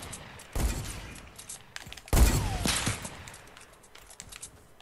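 Gunfire in a sniper shootout video game, with two sharp, heavy shots about a second and a half apart, each followed by a rolling tail, alongside fainter pops and game sounds.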